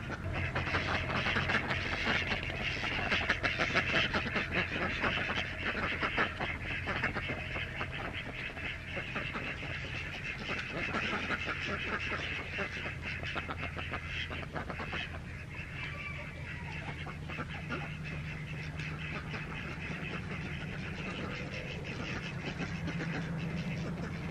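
A frightened duck quacks and honks repeatedly during a chase around a yard, the calls close and loud over steady broadband background noise.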